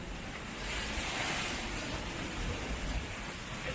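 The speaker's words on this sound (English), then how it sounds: "Oh, in these waves it's amazing." Ocean waves wash around a sailboat at sea, a steady broadband surf with wind noise rushing across the microphone, swelling slightly midway and continuing without any voices.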